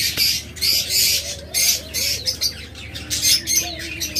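Caged budgerigars, doves, lovebirds and cockatiels at a bird sale chirp, squawk and tweet in dense overlapping bursts, with brief wing flutters, close and fairly loud throughout.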